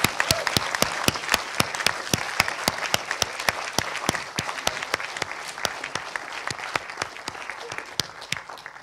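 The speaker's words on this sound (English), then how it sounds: "let everybody give you another round of applause for doing such a fantastic job" A small crowd at a Bradford community event claps, with sharp, distinct individual hand claps standing out in a quick, fairly even rhythm over a softer bed of applause.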